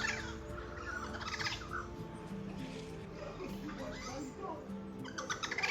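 Harsh crow caws ring out repeatedly over steady outdoor background noise, with a voice murmuring underneath.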